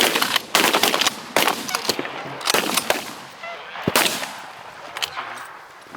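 Shotguns fire during a goose hunt on Michigan waterfowl grounds, several loud sharp blasts in quick succession, some overlapping, with faint bird calls and people talking in between.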